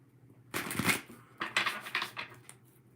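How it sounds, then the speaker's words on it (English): Tarot cards shuffled by hand, two bursts of riffling and sliding card noise separated by a short pause, close and crisp with no talk. "let's shuffle these cards here"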